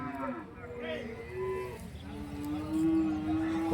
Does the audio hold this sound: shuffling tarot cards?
no